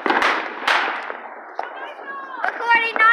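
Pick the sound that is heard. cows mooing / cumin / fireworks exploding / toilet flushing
fireworks exploding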